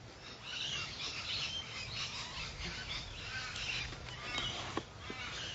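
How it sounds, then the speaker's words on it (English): Parrots chirp excitedly and crows call outdoors, a busy stream of overlapping bird cries held at moderate distance over faint background hum. "the birds, the parrots are so excited that we just had kirtan here, that they're chirping in ecstasy"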